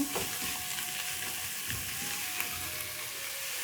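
Half a kilogram of minced beef sizzling in a pan as it is stirred, a steady close crackle with scraping spatula strokes and faint tonal squeaks, no voices.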